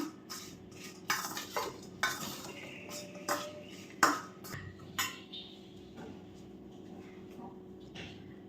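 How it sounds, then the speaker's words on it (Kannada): Chili powder being mixed into palak paneer, heard as a steady series of spoon scrapes and clinks against a metal pot, roughly one per second and fairly close, in a quiet kitchen. "1/4 ಟೀ ಸ್ಪೂನಷ್ಟು ಖಾರದ ಪುಡಿನ ಸೇರಿಸ್ತಾ ಇದ್ದೀನಿ. ಇದು 2 ಚೆನ್ನಾಗಿ ಹೊಂದ್ಕೊಳ್ಳೋ ಥರ ಮಿಕ್ಸ್ ಮಾಡಿ ಇಡಬೇಕು."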